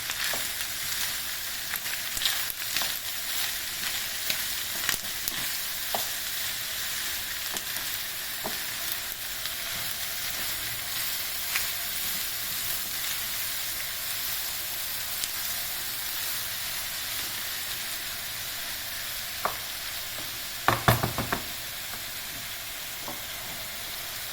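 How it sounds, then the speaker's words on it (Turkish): Onions fry in a pan for a Gaziantep-style liver stir-fry, giving a steady close sizzle throughout with intermittent stirring scrapes and taps, plus a louder clatter near the end. "Evet arkadaşlar soğanları tamamen gördüğünüz gibi sarardık."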